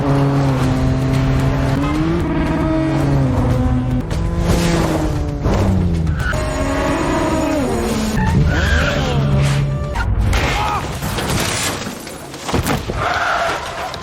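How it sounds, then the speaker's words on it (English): Cars tear along in a high-speed police chase, tires squealing and skidding in long pitched sweeps over roaring engines, loud and continuous throughout. "And once again, a high-speed chase ensued."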